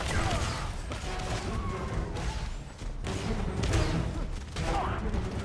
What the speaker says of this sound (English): I can shoot the gas canister here to take out the gun emplacement.